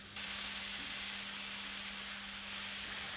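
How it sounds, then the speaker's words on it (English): Mushrooms sizzle steadily in a pan with a broad frying hiss that starts abruptly and continues evenly, fairly quiet, with a faint hum underneath. "Frying mushrooms,"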